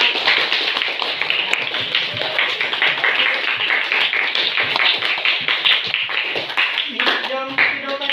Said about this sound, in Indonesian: Kasih aplaus buat kita semua